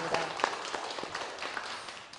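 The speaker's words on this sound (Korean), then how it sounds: "너무 반가운데 우리 박수로 환영할까요?" A church congregation at a Japanese-language service applauds to welcome a returning mandolin team. The clapping is a dense, steady wash of many hands that holds for the full length, with a few sharper claps standing out.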